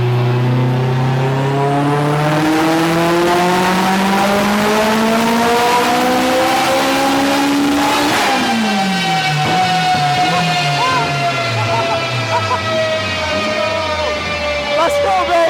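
An 800-horsepower Mitsubishi Evo X engine revs hard on a dyno, rising in a long loud climb, dropping sharply midway, then climbing again with a sustained high-pitched whine and roar.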